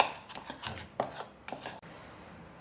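A knife chops capsicum and tomato on a board in a home kitchen, a quick run of close, crisp cuts through the first two seconds that then fades off.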